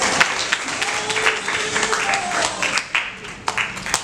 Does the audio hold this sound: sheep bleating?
no